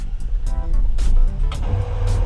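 An RV towing a car rolls down the road through Targhee National Forest, giving a low, steady road rumble broken by bursts of rushing wind noise.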